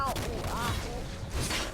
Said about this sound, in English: here comes GP's cannons